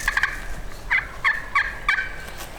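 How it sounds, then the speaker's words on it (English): A wild turkey gobbler gobbles several times in quick succession, fairly distant and clear over quiet outdoor background. "this gobbler answered pretty quick"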